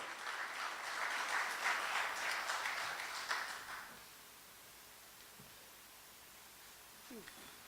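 An audience at a chamber of commerce business event applauds a guest speaker after his introduction, a dense wash of clapping that swells for about four seconds, then stops, leaving a quiet room.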